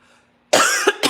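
A single person coughs sharply about three times in quick succession, close and loud, after a near-silent moment.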